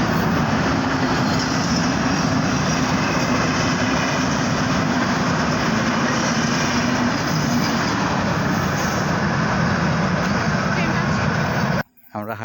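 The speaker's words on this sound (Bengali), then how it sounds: "একটু আগে দেখতে পেলেন একটা ট্রেন চলে গেল দিক দিয়ে" Train passing along a railway line through village countryside, a loud continuous rumble and rattle of wagons close by that lasts nearly the whole time, then cuts off abruptly near the end.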